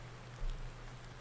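Rain falling on a farm in Farming Simulator 19, a short, steady patter of rain with a low background rumble and a slight swell partway through.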